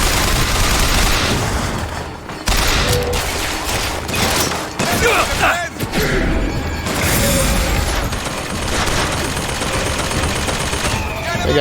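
Rapid turret gunfire in BioShock Infinite, dense bursts of automatic shots layered with crashes and mechanical clatter, loud and continuous throughout with a voice talking over it.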